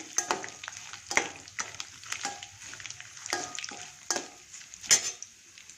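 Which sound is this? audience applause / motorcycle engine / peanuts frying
peanuts frying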